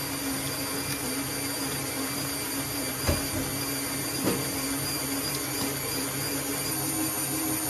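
An electric mixer whips ganache made with cold cream, running at a steady, even whir throughout with a couple of brief knocks against the bowl.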